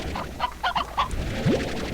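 A chicken in the Slime Rancher game clucks several times in quick, close bursts, ending on a rising squawk, with no talking over it.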